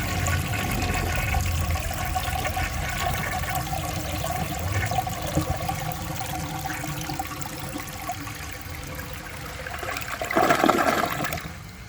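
A 1965 Southern Porcelain toilet flushing, a steady rushing swirl of water through the bowl for most of the stretch, rising briefly near the end as it refills, heard close and alone.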